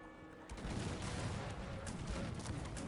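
Battle in the video game Cossacks 3, with cannon and musket gunfire: after a quieter start, a dense continuous barrage of overlapping shots and booms rolls on without pause, loud and crowded.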